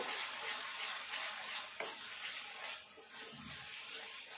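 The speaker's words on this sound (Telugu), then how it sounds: "ఎందుకంటే పచ్చిదే కదా ఇది మంచిగా వేగాలి నూనెలో" Raw chilli powder and green chilli paste frying in hot oil for an egg curry, a steady close hiss of sizzling with a few faint scrapes, heard alone without voices.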